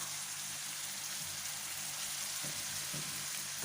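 Spring onion frying in a pan, a continuous close hiss of crackling oil that holds steady throughout with faint low clicks underneath.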